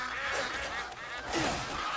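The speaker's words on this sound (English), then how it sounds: "Duck." Duck quacking in the video game Crimson Desert, a few nasal honking calls over steady ambient game noise, moderately close, with a brief louder call near the end.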